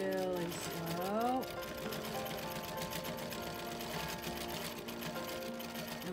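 A sewing machine stitches slowly through quilt fabric in rapid, even mechanical ticking that runs close and continuous, while a voice talks over the start.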